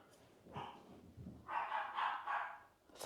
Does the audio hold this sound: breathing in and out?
no